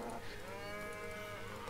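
A cow lows in a strategy video game, a single drawn-out moo that holds steady for nearly two seconds over a dense, even background of game ambience.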